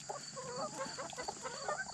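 Backyard hens, some of them molting, cluck softly and busily as they peck at grub treats, with quiet overlapping chatter and no talk.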